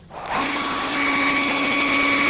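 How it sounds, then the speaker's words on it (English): A hair dryer switches on and settles into a loud, steady high-pitched whir on its high setting, with a constant motor whine, blowing continuously on leather. "I go in with this hair dryer and just blow dry it on high right there."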